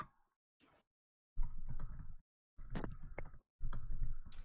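Typing on a computer keyboard: quiet bursts of rapid, close clicking separated by short silent gaps, with no voices alongside.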